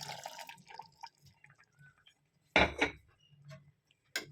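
Water pouring and splashing into a pot of coconut masala veg kurma, with light metallic clinks of the vessel, a couple of close splashy bursts amid quieter dripping.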